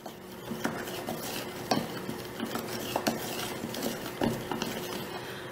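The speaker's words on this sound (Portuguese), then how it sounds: "Agora eu vou mexer para ver se tá numa cor legal." A spoon stirs chocolate porridge made for a Baby Alive doll in a small pot or bowl, with repeated scraping and light clinks against the sides in a loose rhythm, close and alone.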